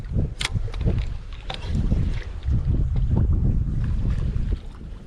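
Wind buffets across an open fishing pier, a loud, continuous rumbling gust noise pressing on the microphone, with a few faint knocks mixed in and no talk.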